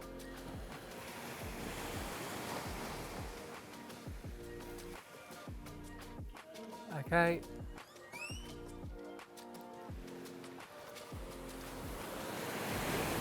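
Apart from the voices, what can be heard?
ocean waves on a beach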